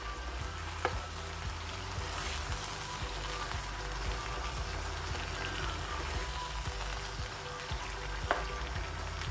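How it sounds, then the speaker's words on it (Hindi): Four or five skinless tomatoes fry over a high flame in a chicken handi, giving a soft, even sizzle throughout, broken by a couple of faint clicks. "अब इसमें ये टमाटर ऐड कर देंगे।"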